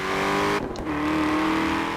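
A car engine in the racing game Forza Horizon 4 hums at a steady tone, briefly dips as if shifting, then settles back into an even drone, heard alone.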